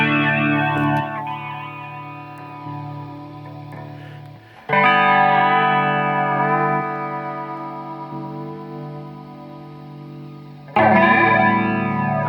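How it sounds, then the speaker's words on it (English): Electric guitar through an MXR flanger pedal, sustained distorted chords with a sweeping, whooshing flange, restruck twice and ringing loudly between strums, no voices. "the flanger is back to being alive"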